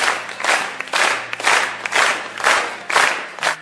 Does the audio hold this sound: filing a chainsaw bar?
no